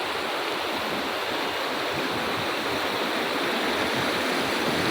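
An unusual river in Tapaktuan, South Aceh, welling up from beneath a mountain, rushes with a steady, dense, close-up roar of flowing water that holds without pause.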